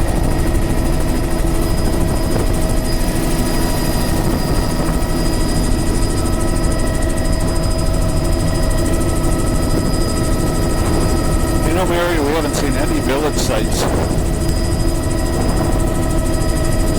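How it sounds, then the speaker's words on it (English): A Coast Guard helicopter drones loudly and steadily throughout, its engine and rotor hum constant, with a brief wavering tone partway through. "Coast Guard helicopter."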